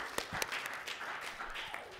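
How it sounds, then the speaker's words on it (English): Audience applause at a startup pitch competition, a short spell of fairly faint clapping with a few sharp individual claps near the start. "Let's clap really hard for the next one."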